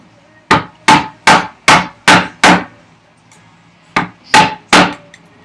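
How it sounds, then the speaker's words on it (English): A mallet strikes a chisel to chop out wood on a carpenter's workbench vise chop, six sharp, evenly spaced knocks, a pause, then three more, loud and close. "Go ahead and chop it out instead of flip-flopping."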